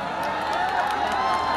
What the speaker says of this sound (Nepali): ताली तो जले उठेको छ त्यसले ताली बजाउनु पर्छ।